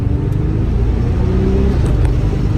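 A red 1984 Porsche 928S cruises on the road with a steady, loud engine and road rumble, constant throughout with no speech.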